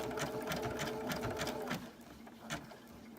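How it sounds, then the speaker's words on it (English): Close, fast mechanical chatter of a sewing machine stitching a coiled rope pot holder, running steadily then slowing to a few quieter stitches. "I'm just slowly turning this around as I sew down it."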